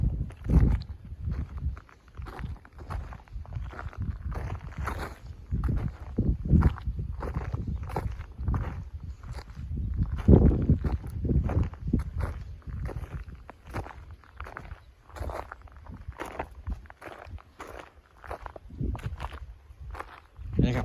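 Footsteps tread over rough, uneven farm ground among ponds and plots, a steady irregular crunch of steps close by, mixed with someone talking throughout.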